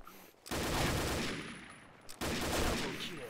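Loud bursts of NOVA SG50 shotgun fire in the shooter game Combat Arms, two sustained volleys of rapid booming blasts separated by a short gap, with no voices.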